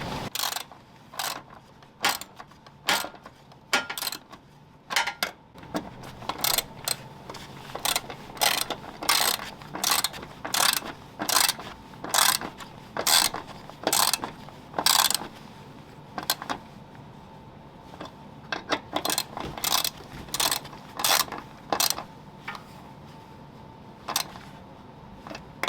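Ratchet wrench clicking in steady bursts while bolts on a Toyota Corolla grill shutter are tightened, sharp repeated ratchet strokes close and fairly loud with short pauses between runs.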